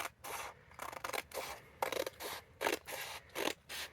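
Scissors snip through paper along craft lines, with a quick run of crisp, close cuts in uneven bursts and brief pauses between them; no talking.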